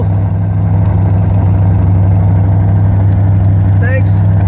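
A 1971 Corvette engine idles steadily throughout with a low, constant hum. A brief chirp sounds near the end.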